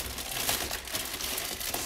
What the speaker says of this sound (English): Sorry about the crinkling noise.